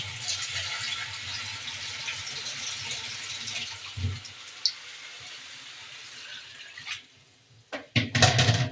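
Water is poured into a pot of lentils being fried in a home kitchen, a steady close splashing stream for most of the pour that fades out, followed by a few sharp clatters of utensils near the end.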